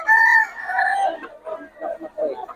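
Young gamecock stag, ten to eleven months old and of Black McRae bloodline, crowing at a Bocaue market; a loud, close crow holds a long note, then breaks into shorter rising and falling phrases.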